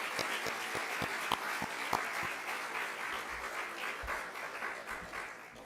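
Audience at an awards ceremony applauding, a moderate patter of clapping with a few sharper individual claps early on, continuing steadily before tapering slightly.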